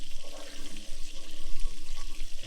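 Butter and oil sizzle steadily in a hot pan before onions go in for a creamy mushroom sauce, a continuous crackling hiss heard up close with no voices.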